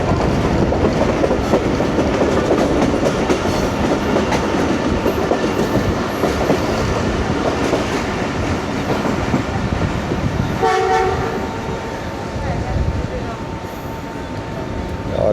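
The Babu passenger train rolls into Gujranwala City railway station in heavy early-morning rain. A steady loud rumble and clatter of the carriages fills the whole stretch, and a horn blast sounds near the end.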